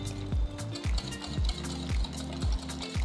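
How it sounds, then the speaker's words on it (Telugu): A spoon stirs yogurt marinade with chili powder, coriander powder, garam masala and salt in a bowl for brinjal biryani, making about six steady rhythmic wet scraping strokes up close. "1 టీ స్పూన్ ఉప్పు వేసి అన్నీ కలిసేలా బాగా కలుపుకోవాలి"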